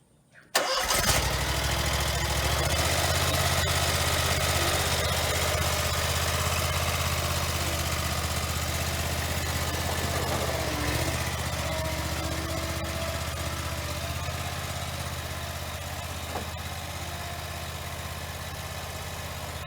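A lawn mower engine starts with a sudden burst after a brief quiet moment, then runs at a steady, loud idle that continues throughout.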